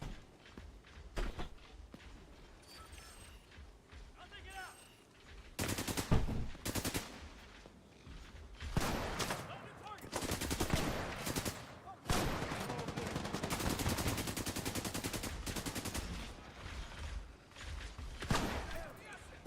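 Bursts of automatic and single-shot gunfire in The Division 2, a third-person shooter, some close and loud, others in rapid clustered volleys, with a player talking over parts of the firefight.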